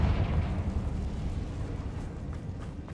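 Confringo blasting spell cast in the video game Hogwarts Legacy: a single low, rumbling explosive burst that starts strong and slowly fades over a few seconds, heard alone.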